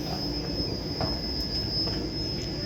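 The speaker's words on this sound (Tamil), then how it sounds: "Train is moving." A train rolls along with a steady high-pitched wheel squeal over a continuous low rumble, heard from on board, on a route from Chennai to Kerala.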